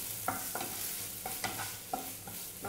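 Capsicum filling being mixed with sauce in a pan, with a spoon scraping and knocking against the metal in about six separate strokes over a faint sizzle. The strokes come at an uneven rhythm and sound close.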